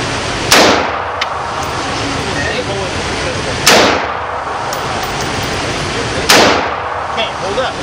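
Three loud, sharp gunshots from an M4 assault rifle fired on semi-auto at an indoor range, spaced a few seconds apart, each with a short echoing tail.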